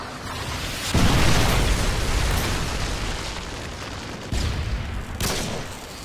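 A Predator missile strike detonates in Call of Duty: Modern Warfare 2, one loud heavy blast that rolls on as a long rumble, with two smaller bursts or impacts following near the end.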